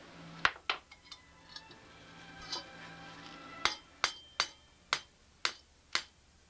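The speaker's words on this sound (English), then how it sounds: "I use a wooden end of a hammer here" The wooden end of a hammer strikes a carbon fiber tank part about a dozen times, making sharp, hollow knocks. The taps start sparse and irregular, then fall into a quick, steady run, loud and close with no talking.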